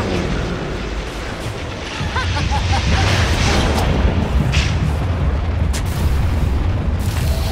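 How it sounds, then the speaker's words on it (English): A tower collapsing in Dota 2 gives a loud, sustained rumbling boom of crumbling structure that swells at about two seconds and holds to the end, layered over constant battle noise. "Dire's top tower has fallen."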